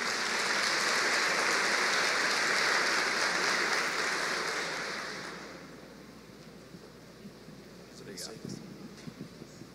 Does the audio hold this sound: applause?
yes